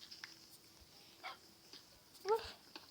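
A dog in the video game Minecraft Pocket Edition gives a few short whimpers and a brief yelp, faint and thin over quiet game ambience, with scattered small clicks.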